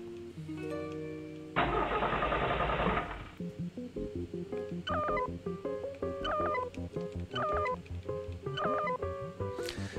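Video game car engine during a driving segment, a loud revving burst that cuts off, then a steady engine drone under repeated bright electronic tones and game music.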